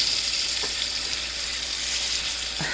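Pork chops browning in a hot frying pan give off a steady, close sizzle and crackle that holds at an even level throughout, with no voices.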